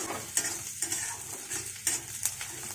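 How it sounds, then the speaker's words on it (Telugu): Chopped onions frying in hot oil with cumin seeds and dried red chillies in a pan, a steady soft sizzle broken by several sharp scraping stirs of a spoon, close and without talk. "దాంట్లో ముందుగా తరిగి పెట్టుకున్న ఆనియన్స్ కూడా వేసి వేయించాలి"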